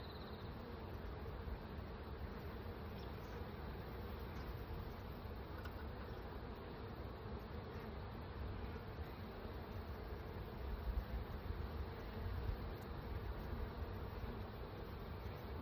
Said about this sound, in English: Do not be scared, little bees.